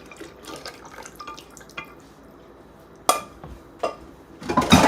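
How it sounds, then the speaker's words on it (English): Hot liquid poured into a pudding mix, sparse drips and splashes that swell into a louder close pour at the end, with scattered clinks of dishes. "pour the hot liquid in"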